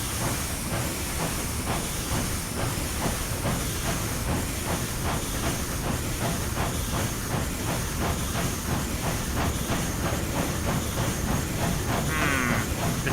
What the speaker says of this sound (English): The chuff rate on the chimney isn't in sync with the sounds.